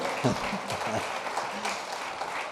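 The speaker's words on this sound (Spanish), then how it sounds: "demos un aplauso al Señor" A church congregation applauds in a scattered round of claps while voices call out over it.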